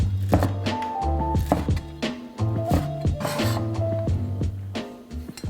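A knife chops through soaked bean thread noodles on a board, cutting them into short segments with a steady run of close, sharp thunks and taps.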